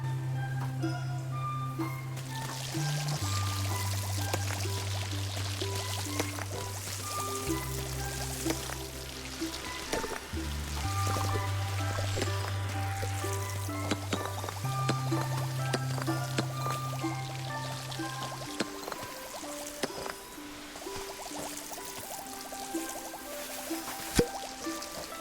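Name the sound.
water spraying from a cleaning tool in a video game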